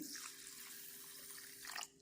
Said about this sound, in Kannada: ನಾವು ಮೊದಲಿಗೆ ಅಕ್ಕಿನ ತೊಳ್ಕೊಬಿಡ್ತೇನೆ.